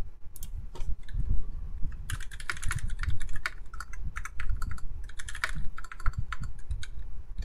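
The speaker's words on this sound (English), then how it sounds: "You guys are gonna probably have a bad typing sample because right now it's just my lav mic" Keystrokes on a custom polycarbonate PC910 mechanical keyboard, recorded through a lavalier mic: close, uneven bursts of clacky typing with brief pauses between runs and no talking.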